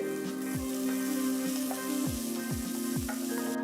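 Steady sizzling of small onion and garlic frying in a pan, a constant crackle with a few soft stirring knocks, no talking.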